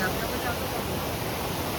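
A hidden waterfall in a Kunkeshwar forest, Nhavnkond, pours out a steady, dense roar of rushing water that fills the whole stretch evenly, without pauses or changes in level.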